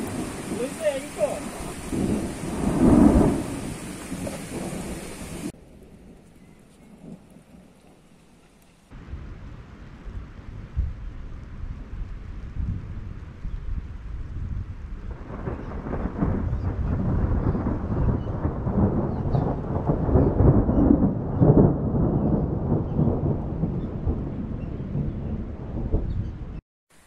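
A thunderstorm with rain on Ostvytsia in July: steady rain hisses throughout while thunder rolls and rumbles, with abrupt shifts in level between stretches of the downpour.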